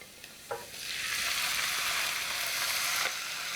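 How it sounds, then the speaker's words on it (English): Chopped tomatoes hit hot oil in a pan and break into a loud, steady sizzle, with a light clink of stirring just before; close and continuous, with no voices. "So now I'm going to add the chopped tomatoes."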